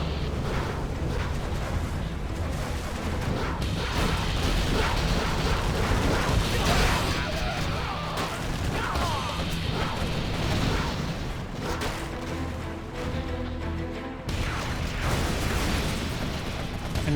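Tomahawk missile strikes in a Command and Conquer Generals: Zero Hour match blast as a dense, continuous barrage of booming explosions and rumbling detonations, loud and sustained with overlapping game effects throughout.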